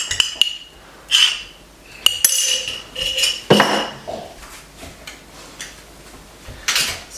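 A utensil stirring hamburger sauce with mustard and barbecue sauce in a dish, giving irregular sharp clinks and scrapes against the bowl, close and alone with quiet gaps between strokes.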